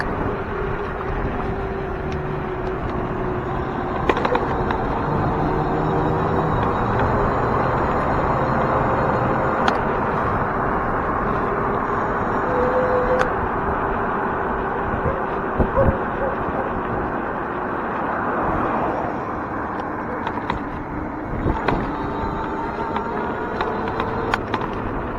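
Steady wind rushes over the microphone on an e-bike ride, a constant loud rumble with passing road traffic swelling and fading underneath and occasional short knocks and bumps along the way.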